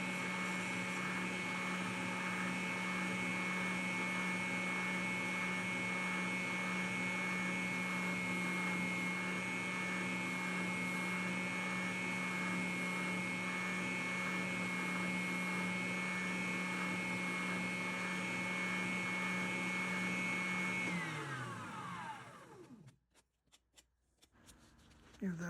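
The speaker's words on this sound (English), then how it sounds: "transition to the sander to tidy that up a bit, both ends" A motorized sander running steadily on the ends of a windfall maple branch wand, a loud continuous hum that holds for about twenty seconds before spinning down, followed by a few handling clatters.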